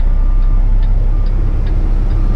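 A Kenworth heavy truck's engine idles in a low, steady rumble with the truck in reverse gear, a faint high whine running through it and soft ticks recurring roughly every half second.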